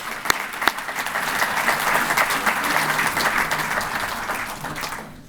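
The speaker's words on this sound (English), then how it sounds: "give them a hand of applause, a round of applause" An audience at a golf course grand opening and ribbon cutting claps steadily for about five seconds, a dense, even round of applause that fades out at the end.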